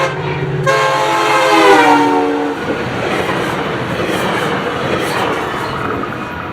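An MP36 locomotive leads a northbound FrontRunner commuter train past, opening with a loud sustained horn blast that gives way to the rumble and rush of passing cars, close and steady.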